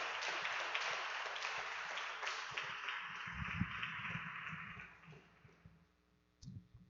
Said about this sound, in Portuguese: queridos, aplauda o Senhor agora